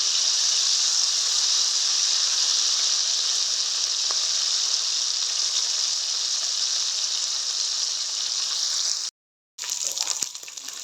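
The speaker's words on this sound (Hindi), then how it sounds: "अब मैं इसमें डालूंगी लहसुन अदरक और सब्ज़ मिर्ची का पेस्ट 1 टीस्पून। इसको अच्छे से फ्राई कर लेंगे।" Garlic, ginger and green chili paste fries in a pan for brinjal bharta, giving a steady, loud sizzling hiss that cuts out briefly near the end and then resumes.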